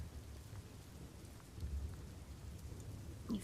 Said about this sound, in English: You hear water dripping,